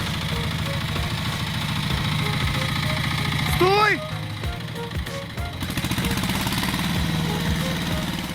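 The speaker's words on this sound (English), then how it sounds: "The engine roars, and despite many attempts, the ground gets churned up" A Goldoni 707cc three-cylinder turbo diesel tractor engine straining hard while hauling a heavy log through mud, a steady loud rumbling drone with a brief higher whine midway and a person shouting over it.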